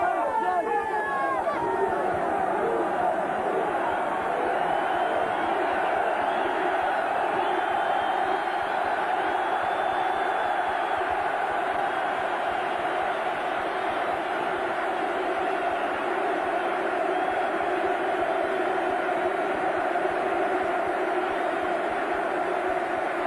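A sellout crowd of 37,000 Newcastle fans fills a football stadium, a dense continuous roar and hubbub of chanting and cheering that holds steady throughout, with a commentator speaking over it.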